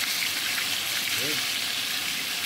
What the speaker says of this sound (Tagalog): Kung nagsiprito ng isda, dapat naka-straight para yung talsik doon.